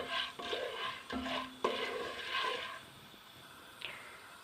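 Popcorn kernels stirred in a pot, a series of soft scraping and rattling strokes, close and moderately quiet, with a faint clink near the end.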